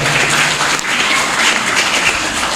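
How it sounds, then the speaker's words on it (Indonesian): Loud applause from a crowd at a political declaration rally in Jakarta for a guest, Gus Warid, dense continuous clapping filling the space without speech. "Tepuk tangan yang meriah buat Gus Warid."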